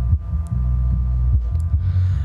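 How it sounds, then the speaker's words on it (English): Deep bass plays from PA subwoofers fed through an active crossover set to 100 Hz, a steady low throbbing pulse with no midrange notes above it. "as you can now hear that it's only bass coming out of my subs"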